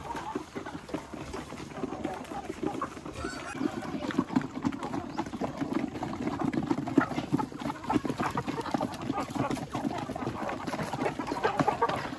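Native chickens cluck and scratch in a farm pen, a continuous mid-level flock murmur with scattered sharp clucks and some background activity.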